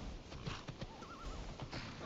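Horse in the video game Skyrim, heard as soft hoof clip-clops and snorting shuffles with a brief whinny in the middle, quiet and close.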